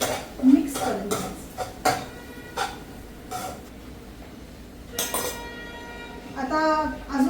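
A spoon scrapes and clinks against a cooking pot as turmeric is stirred in for pithla, with irregular close metallic taps and faint voices in the background.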